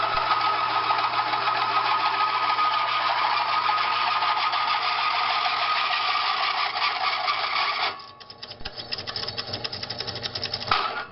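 An engine running without oil makes a harsh, steady mechanical grinding and rattling, loud and unbroken for about eight seconds, then rougher and more uneven before rising again.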